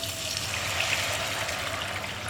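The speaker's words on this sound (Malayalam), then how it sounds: "ഇനി ഞാനിതിലേക്ക് ചേർക്കുന്നത് തിളച്ച വെള്ളമാണ്" Boiling water gushes from a vessel into a pot of fried onions for ghee rice, a steady, close, hissing splash that holds at one level for about two seconds.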